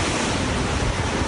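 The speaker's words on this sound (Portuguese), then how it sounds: "O vento está muito forte" Strong hurricane wind from Hurricane Irma in Florida, heard from inside a building's garage, a loud, steady broadband roar with buffeting gusts that fills the whole moment without any voices.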